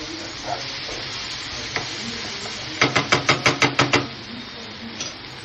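Ginger garlic paste sizzles in a pan, a steady hissing fry broken by a quick run of eight sharp spoon knocks against the pan near the middle, then settling back to the hiss.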